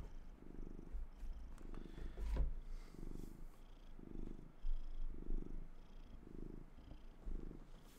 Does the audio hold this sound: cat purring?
yes